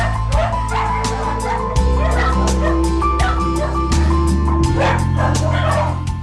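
Several dogs, many suffering from mange, bark, yip and whimper in rapid overlapping bursts, loud and close, over a steady low hum.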